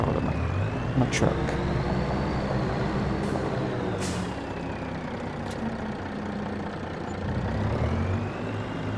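A truck drives through a farming video game on the NF Marsch map, its engine a steady, loud drone with a few sharp hissing bursts like air brakes, throughout the whole stretch and with no speech.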